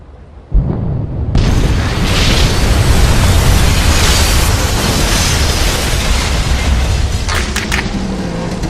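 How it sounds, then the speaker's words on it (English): A naval contact mine detonates against the hospital ship HMHS Britannic: a deep, sudden boom bursts out and swells into a long, roaring rumble that fills the space for several seconds before slowing settling. "When Britannic hit one of the contact fuses on the mine detonated."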